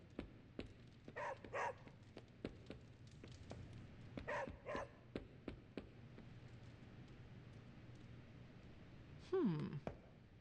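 In the video game Marvel's Midnight Suns, a dog gives a few short yips and barks in scattered clusters, then a whimpering whine near the end, over a low game-ambience hum.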